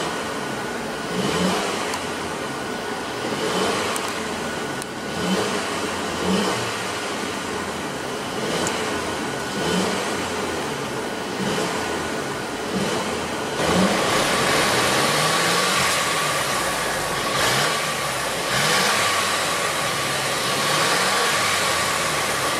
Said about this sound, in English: let's go ahead and rev up that 2-liter 4-cylinder turbo and see how she sounds.